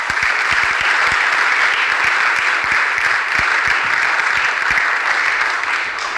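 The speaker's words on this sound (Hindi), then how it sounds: "एक बार जोरदार ताली हो जाए दीपेन के लिए प्लीज।" A studio audience gives steady, dense applause from start to finish for a guest on a televised quiz show, with no talking over it.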